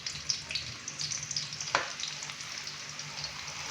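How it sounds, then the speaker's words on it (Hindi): About 250 grams of finely chopped onions sizzle in hot ghee for Bombay chicken biryani: a steady, close crackling hiss with scattered pops and one sharp click midway, no voices. "घी काफ़ी हद तक गर्म हो चुका है। अभी हम इसके अंदर प्याज डालेंगे।"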